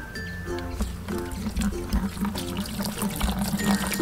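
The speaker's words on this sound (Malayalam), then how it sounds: "അപ്പോൾ നമുക്ക് ഈ വെള്ളയിലേക്ക് ഒഴിച്ചു കൊടുക്കാം." Water poured into a bucket, about eight litres, a steady gurgling pour with splashing that continues for the whole stretch at moderate level.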